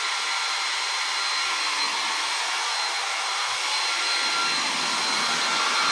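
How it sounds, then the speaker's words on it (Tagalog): An air conditioner runs on a household circuit that keeps tripping its breaker, giving a steady, loud broadband whoosh of blowing air for the whole stretch with no one talking. "Testing rin natin yung aircon."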